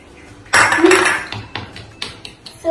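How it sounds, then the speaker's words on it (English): Eggs being beaten in a bowl for scrambled eggs: a loud clattering scrape of utensil against the bowl, followed by several lighter clinks and taps at an uneven rhythm, close by and with no talk. "we need to beat the egg properly"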